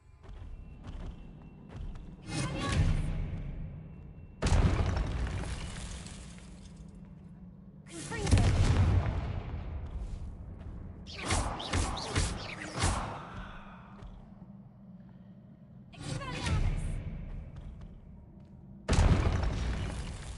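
Confringo blasting spells detonating in a Harry Potter video game, several loud broadband bursts spaced a few seconds apart, each with a crackling decay, with quieter stretches between.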